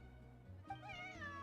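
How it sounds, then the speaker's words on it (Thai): A quiet, soft cat meow from a Genshin Impact game scene rises and wavers over a low background hum, a single drawn-out mew lasting about a second. "แต่น้องเป็นแมวที่เสียงเบาจัง"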